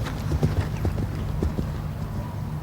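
Steady clip-clop of horse hooves on soft ground in an equestrian arena, a regular rhythmic beat close by, with a faint murmur of voices in the background.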